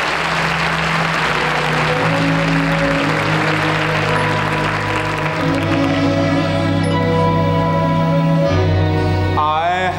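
A studio audience on The Ed Sullivan Show applauds loudly and continuously, and orchestral music begins to swell beneath the clapping partway through.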